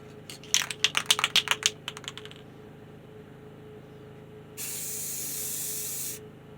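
A masked-off guitar body being spray painted: a quick burst of rapid rattling clicks, a pause, then one close, steady aerosol hiss lasting about a second and a half.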